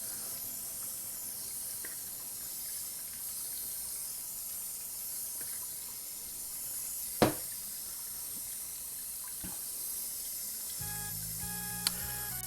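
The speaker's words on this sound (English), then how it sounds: "running water in the other." Tap water runs into a sink in a home darkroom during film developing, a steady soft hiss that holds evenly throughout, with a couple of faint clicks and quiet music starting near the end.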